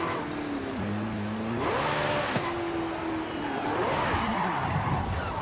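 A twin-turbo V10 hybrid car in Forza Horizon 5 revs and accelerates through several gear shifts, engine pitch rising and dropping, with a brief tire squeal; loud, close and continuous, no talking.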